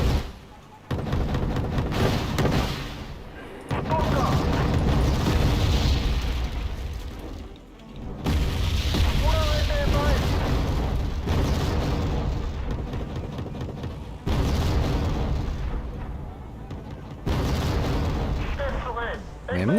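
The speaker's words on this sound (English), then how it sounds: "This artillery is a massive problem." Artillery shells and bombs explode in the real-time strategy video game Wargame: Red Dragon, repeated heavy booms and rumbling blasts spread across the match under near-continuous talk from a player.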